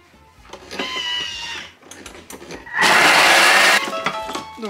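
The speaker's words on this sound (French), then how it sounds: "Et je vais venir les mixer 20 secondes, vitesse 10." Food processor blending halved tomatoes at speed 10, a bright, harsh motor whir in short bursts with a loud sustained run near the end, close up in a home kitchen.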